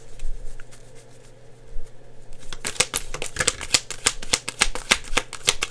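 A deck of cards is shuffled close up in a quiet room, a rapid burst of crisp riffling clicks that begins after a few seconds of near silence and runs to the end.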